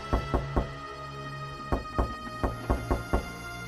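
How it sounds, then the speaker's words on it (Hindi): Knocks on the door of a small village house come close and clear: three quick raps, a pause, then two more and a final run of four. "अचानक दरवाजा खटखटाने की आवाज आती है।"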